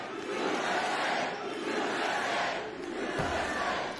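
A large crowd of protesters outside a speech, a dense continuous roar of many shouting voices, swelling and easing slightly, with a dull thump near the end.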